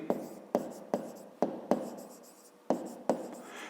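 A pen or chalk writes out a math solution, seven or so distinct scratchy strokes at irregular intervals, close and quiet, each a short sharp tap followed by a brief scraping trail.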